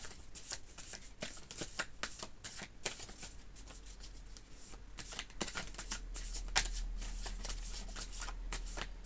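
Tarot cards being shuffled over and over, a soft papery riffling and flicking that keeps going steadily, fairly close and quiet, with no talking.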